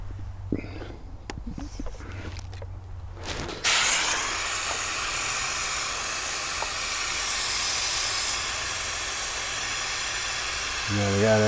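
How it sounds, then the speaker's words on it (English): Old brake fluid hissing out as a Suzuki SV650 motorcycle brake line is bled. A loud, steady hiss starts abruptly after a few seconds of quieter shop noise and continues to the end. "there's the old fluid coming out"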